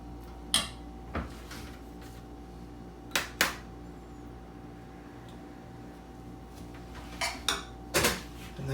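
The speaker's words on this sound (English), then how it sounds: "I'm going to put one more shrimp on the plate here on the other side." A few scattered clinks and taps of dishes and utensils as shrimp are set on a plate of one-pan jambalaya, sharp and brief with quiet pauses between, no talking.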